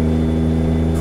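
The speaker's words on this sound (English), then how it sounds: "I'm gonna roll the windows down so we listen just to how amazing this engine sounds with this W900" A Kenworth W900 truck engine in American Truck Simulator drones at a steady cruise with the windows down, a loud, constant low hum with strong, even tones and no change in pitch.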